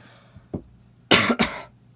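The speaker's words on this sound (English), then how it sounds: "Sorry, I'm coughing today." A soft throat noise comes first, then a harsh double cough, two loud bursts close together, near and clear against quiet.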